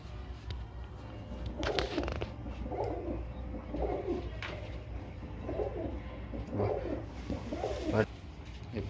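Pigeons coo repeatedly in a loft, low throaty bubbling calls rising in a steady rhythm of about one every second, close and moderately loud over a faint room hum.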